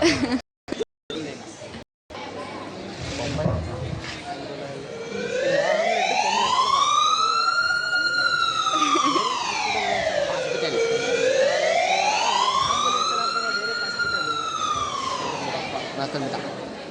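An ambulance siren wails loud and close, rising and falling in slow sweeps for over ten seconds after a few brief bursts of voices at the start.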